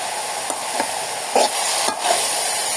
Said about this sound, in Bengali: সব দিয়ে ভালো মতো একটু কষাবো।